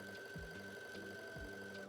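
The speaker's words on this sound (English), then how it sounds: "Once those are prepared, it's time to sew with a 3/8 inch seam allowance." A sewing machine runs trouser seams, a faint, steady mechanical hum with soft periodic thumps, quiet and continuous.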